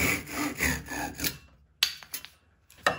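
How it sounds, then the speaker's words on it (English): A Japanese pull saw cuts through wood in rhythmic rasping strokes, close and loud, before pausing and then giving a few shorter, separate strokes. "Here's just another angle of the cutting action there."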